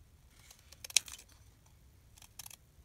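Scissors snipping paper stickers for journal tabs, heard as a few quiet, close cuts with a sharp click near the start and another pair of snips toward the end, over a faint background hum.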